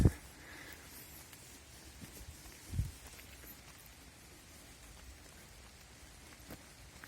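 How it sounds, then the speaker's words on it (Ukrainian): Steady light rain patters softly throughout in Truskavets in autumn, a faint even hiss with a couple of dull thumps near the start and middle. "Поки що під дощем ще."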